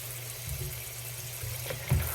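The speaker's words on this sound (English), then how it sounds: "you want to make sure you rinse really good" Butternut squash rinsed in a strainer under a running tap, a soft steady trickle of water with faint splashes and a brief louder slosh near the end, no talking.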